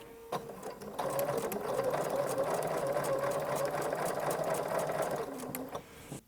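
A sewing machine with a braiding foot stitches braid along a fabric edge, a close, steady mechanical whir with rapid needle ticking that runs for about five seconds before stopping.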